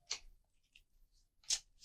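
Playing cards being shuffled during setup of a tabletop card game, heard as two short crisp riffling bursts separated by a quiet pause, close and fairly faint.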